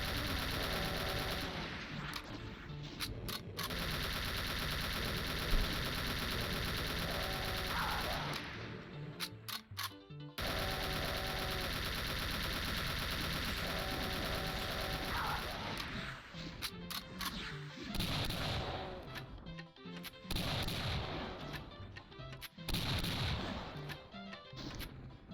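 Repeated AK-47 fire in the game Doom: The Golden Souls, with sustained bursts and rapid shots running almost continuously alongside other game sounds, broken by a few short pauses.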